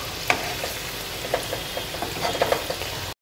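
Dahi vada batter fritters fry in hot oil over a medium flame, giving a close, steady sizzle broken by small popping crackles.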